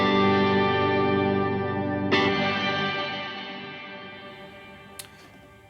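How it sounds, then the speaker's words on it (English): A clean electric guitar G chord is strummed through a MOD Dwarf pedal with stereo reverb, ringing out and decaying slowly in a wide wash, with a second light strum partway through and a soft click near the end. "Let's turn a reverb on, and it's in stereo."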